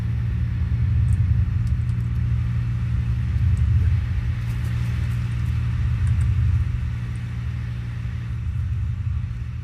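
A car in a video game rumbles steadily as it drives off, its low engine drone continuous and close, with faint high clicks and pops scattered above it and no talk heard.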